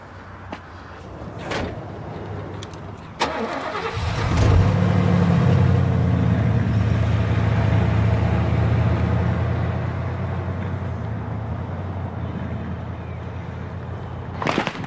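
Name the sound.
pickup truck engine starting and driving off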